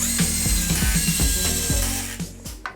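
Pocket hole screws driven into a wooden bed frame with a power driver give quick, evenly spaced ratcheting clicks and thumps, close and loud, slowing and fading toward the end.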